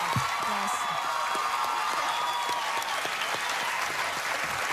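Sustained applause from a television studio audience after a dance routine, dense steady clapping with a few cheers mixed in, loud and continuous throughout.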